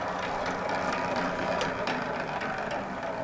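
A 100-year-old drill machine with a newly tightened drive belt runs at a steady mechanical hum and clatter, loud and close, with faint rhythmic ticking and no talk.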